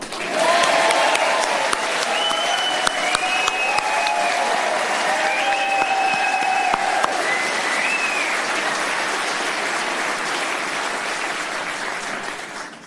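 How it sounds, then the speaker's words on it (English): Sustained applause from a Reform UK Wiltshire conference audience for speaker Anne Widdecombe, a dense, steady wash of clapping lasting throughout, with a few faint whistles or cheers rising above it before slowly tapering at the end. "should we give another huge round of applause for the superb Anne Widdecombe?"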